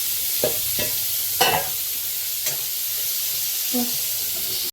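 Pointed gourd slices fry in a pan with a steady hissing sizzle, broken by a few soft clinks and scrapes of stirring, no voices.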